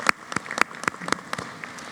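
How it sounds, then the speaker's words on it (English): A handful of scattered, separate handclaps from the audience at a community college commencement ceremony, crisp and moderately close, dwindling rather than swelling into full applause. "That does deserve our applause."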